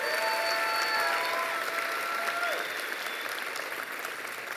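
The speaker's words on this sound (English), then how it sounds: "another round of applause for Sylvia Mendez, the Distinguished Alumni for 2024." Sustained applause from a large commencement crowd honoring Sylvia Mendez, 2024 distinguished alumna, a dense steady wash of clapping that holds at full strength before easing slightly toward the end, with faint whistles or tones briefly rising above it.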